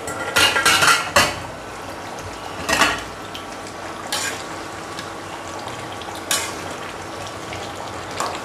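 Mutton bhuna stirred in a covered pot, with metal spoon scrapes and clanks against the pot in a few short bursts over a steady low sizzle.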